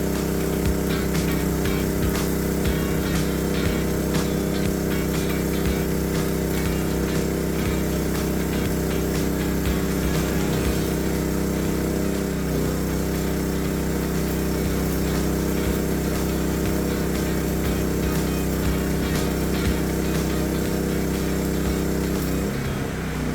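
An engine-driven PK4200IE2A welding generator runs under load, a loud, steady, close engine drone that holds constant throughout with no talk.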